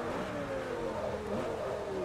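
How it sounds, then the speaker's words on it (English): An Audi R8 engine in the racing video game Forza Motorsport 3 revs steadily with a rising and falling mid-pitched drone, loud and continuous across the short span. "This is just an Audi R8."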